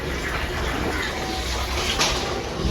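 Tap water runs in a steady, loud, close rush while dishes are washed, a continuous broadband flow with no breaks.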